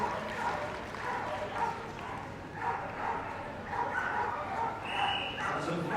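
Dogs bark and yip in a loud indoor arena during a Crufts flyball team semi-final race, with repeated sharp barks mixed into crowd noise and a commentator talking over them.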